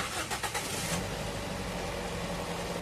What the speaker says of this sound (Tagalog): Pag okay na, pwede nang i-start itong makina.